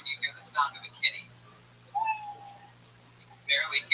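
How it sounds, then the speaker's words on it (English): A tiny kitten's high, thin meows serve as the time-up cue at a comedy show. Short squeaky bursts come at the start and end, with one drawn-out mew in the middle, and voices can be heard around them. "you know your minute's up when you hear the sound of a kitty"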